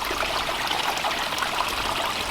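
Water pours steadily over the lip of an Aquascape 12-inch spillway filter into a renovated garden pond waterfall, a constant close splashing trickle with no pauses or voices.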